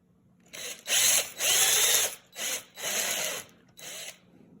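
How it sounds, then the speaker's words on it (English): Power drill boring a series of holes into a wooden frame, five loud whining bursts of uneven length separated by short pauses, close by with no talking. "The trick is you drill up to the tape"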